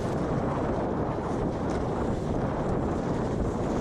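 Strong wind buffets a sailing dinghy, a Welsford Navigator, out on open water between an island and the mainland: a loud, steady roar of wind noise over the microphone with no break and no voices.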